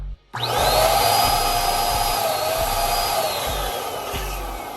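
An electric air inflator fills a double stuffed balloon, air forced through both necks into both balloon bodies, giving a loud steady motor whoosh with a rising whine, continuous after a brief silent start.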